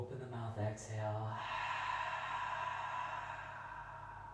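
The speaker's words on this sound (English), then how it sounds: "And then open the mouth, exhale." A deep breath let out through an open mouth during a guided yoga flow, a long airy exhale that follows a brief voiced onset and then fades slowly over a few seconds.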